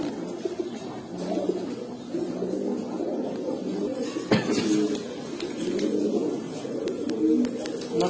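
A pair of Pankhi pigeons, the hen silver-patterned, coo in repeated soft, throaty phrases close by, with a quiet room background and one sharp knock midway.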